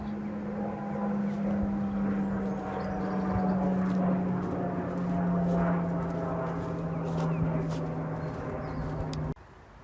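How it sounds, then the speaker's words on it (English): A steady engine drone of an airplane passing overhead in countryside by the River Chess, sustained and fairly loud throughout, cutting off abruptly at the end. "another bleeding plane"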